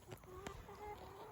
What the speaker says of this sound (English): You guys want to see some chickens play